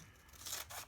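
Scissors snip through fabric while trimming a sewn pressing pillow, giving two short close crisp cuts with a faint rasp and no talk.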